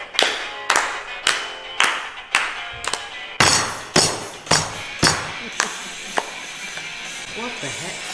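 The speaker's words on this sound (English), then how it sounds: "Right, clap and tell it." People clap their hands in a steady run of about a dozen sharp, evenly spaced claps, close and loud, with voices talking faintly underneath toward the end.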